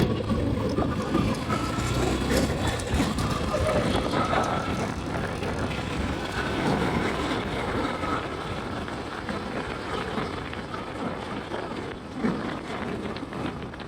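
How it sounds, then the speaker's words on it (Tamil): A passing train rumbles steadily, loud and close, its broad continuous roar holding for the full stretch with no voices over it. "ட்ரெயின்"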